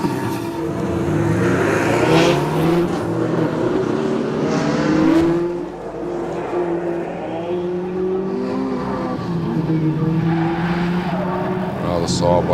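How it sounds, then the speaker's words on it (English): A 6-litre Holden VT Commodore climbs a hillclimb course, its V8 engine rising and falling as it revs through the gears and corners, with tyre squeal and a commentator speaking over the car. "Max Vittinen now climbing the mountain in his VT Commodore"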